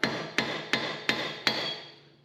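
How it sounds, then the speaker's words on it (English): Five sharp metallic taps of a hammer on a screwdriver ring out at an even pace, working a front wheel dust cap loose. The strikes are close and clear, each with a short ringing decay, and no one speaks. "we're just going to use a screwdriver and a hammer"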